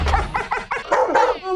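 A dog barks in a quick series of sharp, loud yips and bow-wows, up close, ending on a higher whimpering note.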